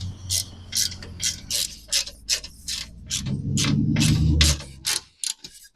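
A hand ratchet tightens bolts securing solar panels onto a van roof, a close run of quick rhythmic clicking strokes in short bursts with brief pauses, the last stretch denser as the bolt seats.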